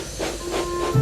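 Thomas the steam engine hisses softly, a short breathy wash of steam with a faint tonal whistle-like line running through it.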